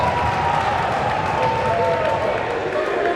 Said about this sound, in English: Warwick's got the crowd into it